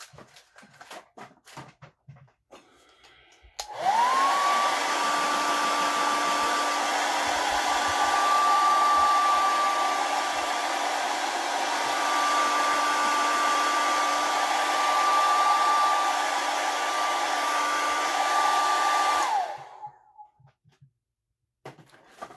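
A hair dryer blows steadily on a mixed flesh-tone paint paste for about fifteen seconds, switching on abruptly with a rising whine, holding a loud constant whoosh with a tonal hum, then cutting off.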